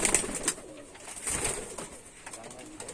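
A male and a female Madrazi pigeon cooing at close range, soft throaty coos repeating over a few seconds, with a faint voice in the background.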